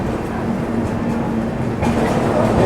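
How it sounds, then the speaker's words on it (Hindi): A superfast express train pulls out of Agra Cantt station after a two-minute halt, giving a steady close rumble and rolling clatter throughout with a slight swell partway through. "हम लोग आगरा कैंट ठीक 2 मिनट रुकने के बाद डिपार्ट कर रहे हैं"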